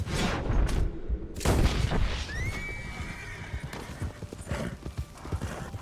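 Galloping horse hooves in the video game Red Dead Redemption 2, loud rhythmic clip-clop with a sharp whinny partway through and heavy booming gunfire blasts around it.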